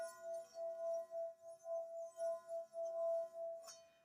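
A newer Tibetan singing bowl is struck once and rings with a steady sustained tone that pulses gently in volume, followed by a faint high shimmer near the end.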